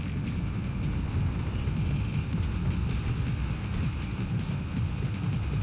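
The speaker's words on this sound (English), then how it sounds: "Raiden, an unidentified field rotor is headed your way." Low rumbling drone of an unidentified field rotor approaching in Metal Gear Rising, a dense, steady engine roar heavy in the low end with faint higher whirring, sustained throughout without speech.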